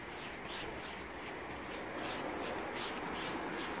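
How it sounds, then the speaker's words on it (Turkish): A paintbrush is worked over a wooden nightstand, applying paint for a distressed finish. Steady close rubbing strokes sweep back and forth in a soft, even rhythm with no voices. "fırçamın hepsini güzelce yedirmeye çalışıyorum"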